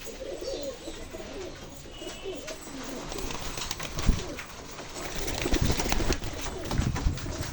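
Domestic pigeons kept at a home loft coo repeatedly in soft, low, throaty rolls, several birds overlapping at close range with occasional wing flutters and a faint voice in the background.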